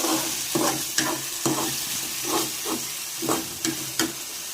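Browned onion and chopped tomato fry in a pan for an aubergine bharit, a continuous sizzle broken by repeated stirring strokes, each scrape lifting the hiss in an uneven rhythm.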